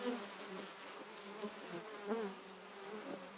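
Honeybees drone and buzz close by in the nest as a returning scout arrives, a steady, faint hum with small rising and falling whines from individual insects.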